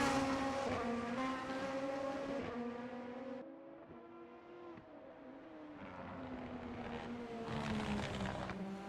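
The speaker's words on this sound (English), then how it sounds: "Beautiful engine sounds." Super Formula (SF1) race car engines whine and rev at high pitch during a championship race, rising and falling through gear changes as the cars speed past at a distance.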